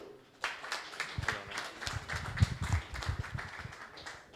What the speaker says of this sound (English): So if everyone could do a quick round of applause